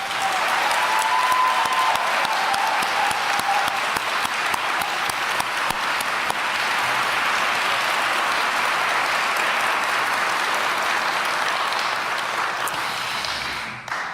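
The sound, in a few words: audience round of applause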